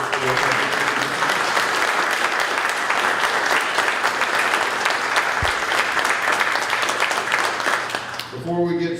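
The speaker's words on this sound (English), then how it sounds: "let's give a round of applause to the candidates" Dense, sustained applause from an audience at a candidates' forum, steady and loud for most of the stretch before thinning out near the end, with faint voices mixed underneath.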